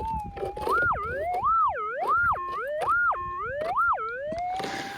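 A metal detector's warbling electronic tone swoops up and down several times in quick succession, loud and clear against a faint hiss.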